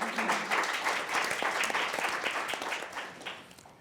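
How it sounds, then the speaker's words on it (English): Applause for women panelists at a corporate panel discussion, a dense burst of clapping from an audience that fills the whole short span and tapers slightly at the end. "A round of applause for the ladies"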